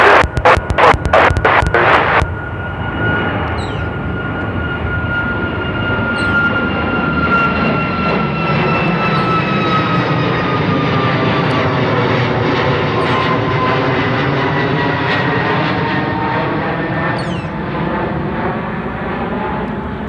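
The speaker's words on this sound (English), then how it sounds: "runway 34 right, clear for takeoff" Airliner taking off from Seattle-Tacoma runway 34 right, a loud sustained jet engine roar with a whining tone that slowly bends as the aircraft moves away, following a short burst of clatter at the start.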